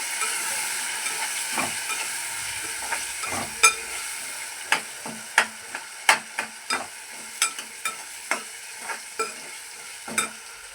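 Potatoes fry with turmeric and salt in a curry pan, giving a soft, steady sizzle punctuated by a series of sharp spoon clicks and scrapes against the pan as they are stirred.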